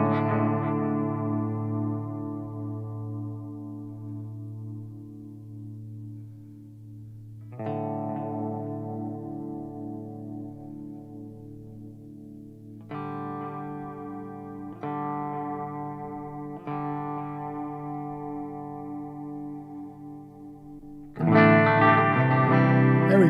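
An electric guitar played through multi-delay and reverb effects rings out in long sustained chords that fade with echoing tails, and a new chord is struck every few seconds, ending with a brighter, more distorted strum.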